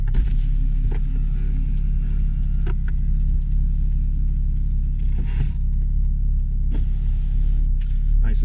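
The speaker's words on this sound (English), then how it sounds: "I was just gonna show you the power top going down" Power convertible top on a 2014 Porsche 981 Boxster lowering: a steady electric motor whir with faint creaks and clicks over a constant low idle rumble, continuous and close, with no talking.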